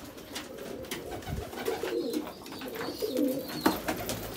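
Pigeons coo softly and repeatedly nearby, low throaty calls overlapping against a quiet outdoor background.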